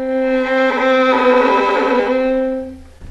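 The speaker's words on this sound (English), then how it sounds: "It is also necessary not to press too hard with the bow, otherwise we get a going through of the string, creating a distorted sound like this." A violin bowed sul tasto with too much bow pressure, the string crushed into a distorted, scratchy tone; one sustained bowed note held for about three seconds, close and loud, played alone without talk.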